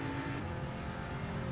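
An Audi RS3 race car in iRacing at Laguna Seca drones steadily from the engine as it drops to third gear. The tone holds a dense, continuous hum throughout.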